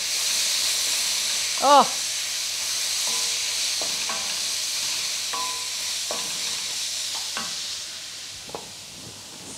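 Beans go into a pan of cooked-down onions and are stirred, producing a steady low sizzle with intermittent scraping stirs close by and a brief voiced exclamation.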